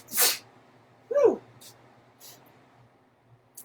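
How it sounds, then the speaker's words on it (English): One loud, close sneeze bursts out, followed a second later by a voiced exhale, with a few quieter breathy sounds afterward. "sneezes come in threes"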